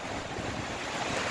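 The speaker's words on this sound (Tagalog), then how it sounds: "Lakas ng hangin oh." Strong typhoon wind roars steadily and loudly outdoors, with broad rushing gusts buffeting the microphone throughout, no voices present.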